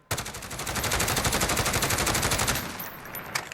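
A FAMAE Mini-SAF submachine gun fires one long rapid automatic burst in Call of Duty Modern Warfare, loud and close, with evenly spaced shots and a brief tail.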